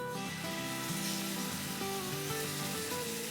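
Boti kabab meat pieces sizzle in a lightly oiled cast iron pan over a medium-high flame, with a steady close frying hiss and crackle that swells as the pieces land.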